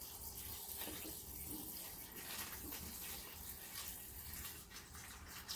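Water runs steadily and slowly from a tap-like stream into a 5-gallon betta fish tank, a continuous soft splashing wash that holds at an even level throughout.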